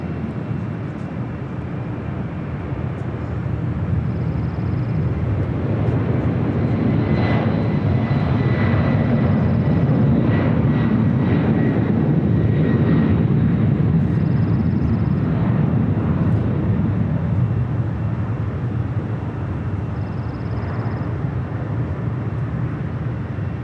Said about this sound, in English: It's Coletta Air, flight 370, heading off to Honolulu on a 747-4 freighter